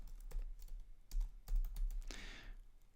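Typing on a computer keyboard at a design workstation: a few faint, close key clicks spaced irregularly, ending in a brief burst of rustling noise.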